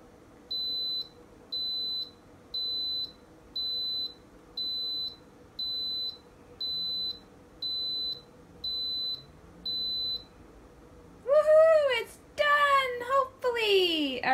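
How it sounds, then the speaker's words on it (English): An electric pressure cooker (Instant Pot) making soy yogurt beeps ten times in a steady, evenly spaced series of clear high tones, followed by a person speaking close by. "catch the beeping noise, the exciting it's done beeping noise"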